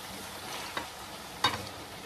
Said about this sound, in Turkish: Zaten köfteleri de öyle gelişi güzel kızartacağım.